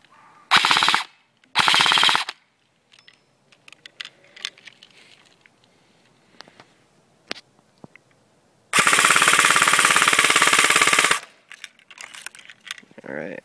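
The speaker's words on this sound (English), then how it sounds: "that's my shooting test for my Ignite M4 Viper" An Ignite Black Ops M4 Viper blaster shooting white BBs outdoors at rocks fires in loud full-auto bursts: two short rapid bursts, scattered clicks and ticks, then a long sustained burst of several seconds.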